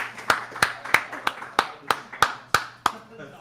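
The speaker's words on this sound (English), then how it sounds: "I'm sure people love it when you clap in the mic" Sharp hand claps struck close to a microphone, nine of them at a steady, moderately quick pace, each one loud and crisp with a short decay, over faint background hum.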